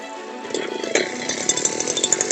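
A small two-stroke weed cutter engine buzzes steadily at high revs, close and loud, with a sharp clack near the start.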